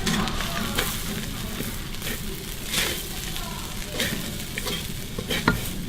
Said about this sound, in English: She just threw in the kaffir lime leaves and just stir fried it just for a couple more seconds.